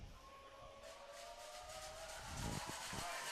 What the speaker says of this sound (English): The whistle, the kick is up.